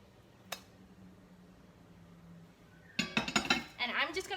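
A fluffy banana-corn pancake goes onto a plate in a quiet kitchen: one faint clink, a pause with low background hum, then a quick cluster of clattering dishes and scraping cutlery close by.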